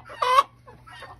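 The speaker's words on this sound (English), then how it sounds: "There she is, and there is my big rooster." A single loud, close cluck from a large Barred Rock rooster, followed by a couple of softer, shorter clucks.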